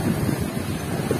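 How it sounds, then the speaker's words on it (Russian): Wind blows at the seaside in Dzhemete, Anapa, on a worsening day with a south-east wind and waves, a continuous close buffeting rush across the microphone. "ветер юго-восточный"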